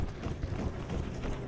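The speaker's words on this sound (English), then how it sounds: "You hear footsteps behind you?" Quick footsteps sound behind the player in a first-person shooter video game, a rapid, muffled patter mixed into dense game noise, fairly loud and continuous.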